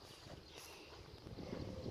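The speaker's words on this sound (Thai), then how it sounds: "ลมไหลแรงด้วย" Wind gusts by a river in Chaiyaphum, a faint, steady rushing that buffets the microphone with rumbling low-end noise and no voices.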